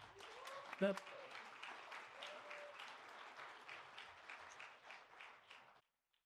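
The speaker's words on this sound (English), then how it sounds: "So please join me in giving Colton a great round of applause." An audience at a university lecture at Pepperdine gives a round of applause, steady clapping at moderate, fairly distant level that runs several seconds before stopping abruptly, with a voice briefly heard near the beginning.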